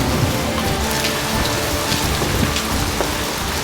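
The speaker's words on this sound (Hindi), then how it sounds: "बारिश कुछ ऐसे ही हो रही है भाई आजकल, खूब मोटी मोटी सी बहाने वाली बारिश" Heavy monsoon rain pours steadily in a hill setting, a dense, constant hiss and patter of big drops with no voices.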